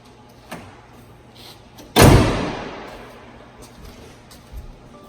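The hood of a Ford F350 Cummins pickup slams shut once with a loud, heavy thud that rings out and decays over about a second, with a couple of faint knocks before and after.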